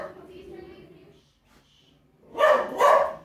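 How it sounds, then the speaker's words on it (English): Two loud dog barks burst out near the end after a stretch of quieter background sound, the barks close and sharp. "Ignore the dog noises."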